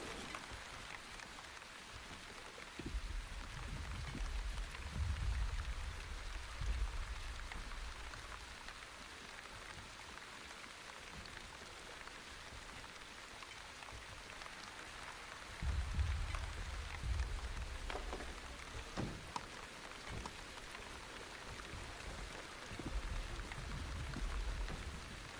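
Steady rain falls in The Wandering Village, a dense, even hiss of drops that keeps going the whole time, with no one speaking.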